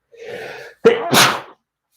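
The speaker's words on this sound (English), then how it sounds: "I'm about to sneeze." A single close, loud sneeze: a drawn-in breath followed by an explosive burst, then silence.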